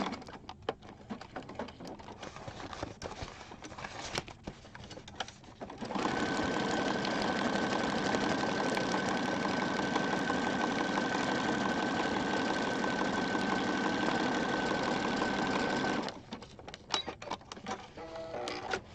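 A sewing machine stitches around the edge of a junk journal, its motor running in one loud continuous whirring burst of about ten seconds, with quieter handling clicks and rustles before and after.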